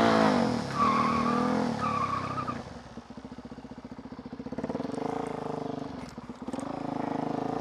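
A car in a video game skids with squealing tires, then its engine drones in a buzzing, pulsing rev as it drives on, loud and continuous with a second burst of revving near the end.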